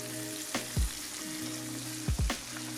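A pork steak fries in a hot pan with a constant close sizzle, joined by a couple of low thumps and shifting sounds from the pan.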